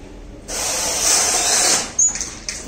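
A solar-powered agricultural robot sprays pesticide in a steady close hiss that starts abruptly, holds for over a second, then cuts off, followed by a few brief spurts.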